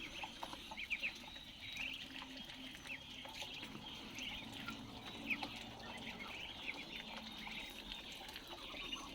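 Ducks, including white ducks, quacking and chattering in a group, with scattered overlapping calls over a steady outdoor background.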